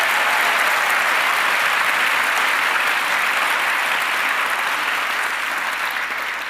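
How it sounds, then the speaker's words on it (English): Loud, dense audience applause for Marina Hyde at a live conversation event, a full sustained roar of clapping that stays even and slowly tapers near the end. "So let's get one more round of applause."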